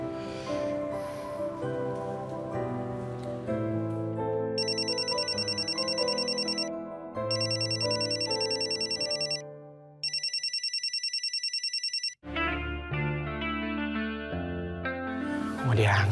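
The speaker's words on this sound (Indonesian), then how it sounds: "Ayo Meka, angkat dong teleponnya." A mobile phone rings out unanswered, its ringtone a melodic electronic tune looping in bright repeated bursts that pause briefly between rings, alone and clear in a quiet room.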